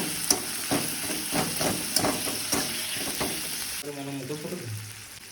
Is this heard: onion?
yes